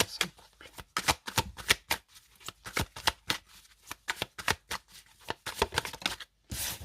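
Tarot cards being shuffled by hand in a run of crisp, rapid riffles and flutters, close and fairly loud, with brief pauses between bursts and no talking.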